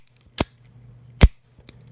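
An out-the-front knife's blade snaps into place with three sharp, close mechanical clicks spaced apart, each a crisp metallic snap against near silence.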